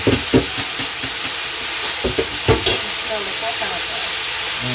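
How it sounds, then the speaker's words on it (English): Kale wilts in a hot pan, producing a continuous close hiss and sizzle with several soft stirring thumps and scrapes spread through it. "And we really just want to get this kale wilted."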